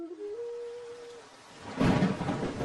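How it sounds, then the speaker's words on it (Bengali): A faint tone fades into the hiss of heavy rain on a stormy night, then a deep thunder rumble bursts in loudly and rolls on over the rain. "বাইরে প্রবল বৃষ্টির শব্দ আর ঝোড়ো বাতাসের শোঁ শোঁ আওয়াজ"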